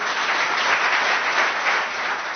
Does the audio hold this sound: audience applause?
yes